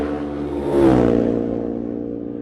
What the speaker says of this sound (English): You hear that distinctive note of the 2-stroke.